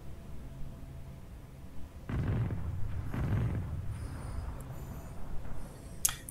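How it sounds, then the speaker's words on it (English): A turret is destroyed in League of Legends, heard as two deep rumbling booms a second apart. Fainter game effects and a sharp bright burst near the end follow them. "Your turret has been destroyed."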